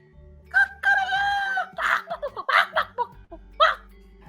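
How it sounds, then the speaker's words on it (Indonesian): A rooster crows a long cock-a-doodle-doo near the start, then several shorter crow-like calls follow at close range, standing alone without speech. "suara ayam jantan berkokok mulai terdengar"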